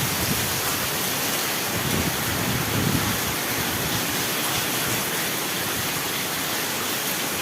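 Sudden rain in Padampur pours down as a dense, steady roar of falling water that stays loud and even throughout, with no voices.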